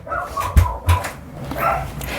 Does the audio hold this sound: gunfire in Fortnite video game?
no